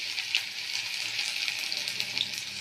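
Chopped garlic and ginger frying in white oil in a wok, a dense, even hiss of sizzling held close and loud throughout, without voices or stirring breaks.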